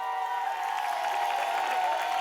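A crowd at a comedy theater show applauds and cheers in a steady, continuous wash, with a sustained musical tone running through the noise.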